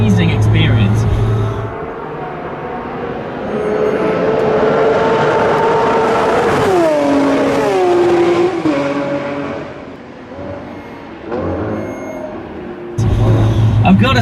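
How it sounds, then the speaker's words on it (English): A Lamborghini Aventador SVJ with its naturally aspirated V12 roaring on a race track, loud and sustained with rising and falling revs and a swelling pass-by in the middle, with voices heard at the start and end. "naturally aspirated V12 with those titanium reworked internals. As you've heard, it truly sounds like a race car."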